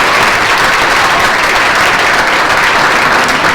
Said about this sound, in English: please give those three ladies, and Corinne especially, a big round of applause